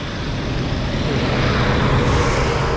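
Steady, loud broadband roar of an airplane flying overhead, continuous and unbroken throughout with no talking.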